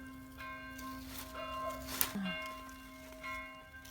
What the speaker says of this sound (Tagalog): Kasi alas 12 na dito kaya tumutunog yung kampana.